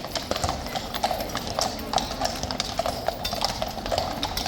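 Horse hooves clip-clop in a steady, close rhythm on hard ground at Horse Guards in London on a bank holiday, with faint background noise around them.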